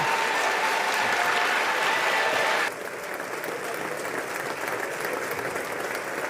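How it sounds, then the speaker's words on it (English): Steady, dense applause from a large crowd, holding loud and even, then dropping slightly in level partway through and continuing. "The runner-up clap."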